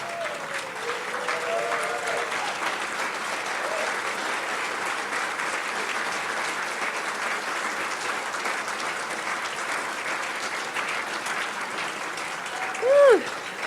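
Sustained applause from a crowd in a meeting room, a standing ovation that holds steady and loud for many seconds, with a few faint voices and calls rising briefly through it near the end.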